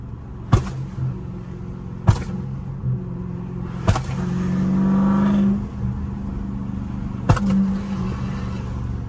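A car engine revs up in a sustained rising roar, broken by several sharp bangs or pops, close by with no talk.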